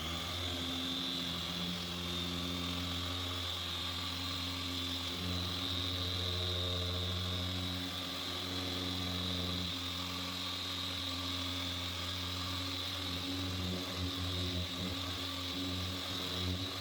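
A car paint polisher runs on a 2016 GMC Denali during new-car prep, giving a steady droning motor hum with a constant pitch that carries unbroken throughout, with no talking.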